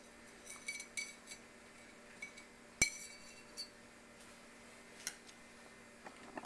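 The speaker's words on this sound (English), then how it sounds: "all you have to do is just run your offset spatula against the bottom of it" An offset spatula runs under petits fours glacé to release them from a surface, giving faint scattered metallic clinks and taps with one sharper click among them.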